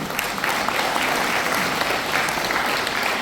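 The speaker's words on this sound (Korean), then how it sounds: "여러분 큰 박수를 보내주시죠." Steady, dense applause from a seated audience at a humanities lecture as a lawyer is welcomed onto the stage, loud and continuous throughout with no talking over it.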